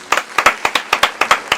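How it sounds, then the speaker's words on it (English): A small group claps on a podcast set to welcome a guest: about a dozen crisp, close, separate hand claps in a quick, uneven rhythm, loud and with no talk over them. "y'all give a round of applause up to my boy Paris Moett"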